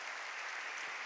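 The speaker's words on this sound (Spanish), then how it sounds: "dar un aplauso a Dios, bien fuerte por esto" Audience applause at a Spanish-language church gathering, a brief, steady wash of many hands clapping, heard at a distance and fairly faint.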